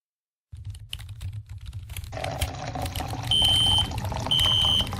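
A fire alarm is pulled in a school, setting off a high repeating electronic beep over clattery rustling and tapping noises close by.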